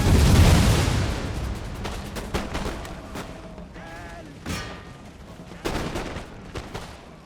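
A musket volley and grenade blasts from the video game Total War: Empire open with a heavy burst of gunfire, then scattered shots and booms keep going at a distance, along with faint battle noise.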